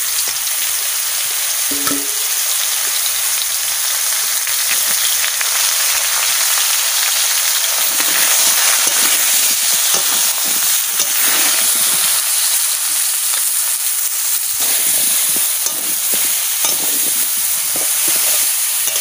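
Bottle gourd pieces fry and are stirred in a pan, giving a steady, loud sizzling hiss throughout with scattered scraping and stirring noises and no talking.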